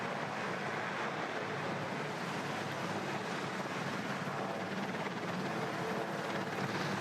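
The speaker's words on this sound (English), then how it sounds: "Guiding now the aircraft into position." A Marine Corps helicopter is guided into position during a ceremonial state visit, its rotor and engine a steady, distant, broadband roar that holds constant throughout, with no voices.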